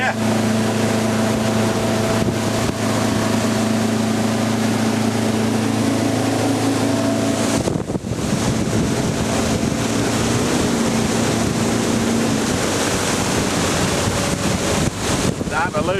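Motorboat engine running steadily up a tidal creek at high tide, a continuous close drone with steady hum tones that shift partway through as the prop picks up weed, under constant wind buffeting on the microphone.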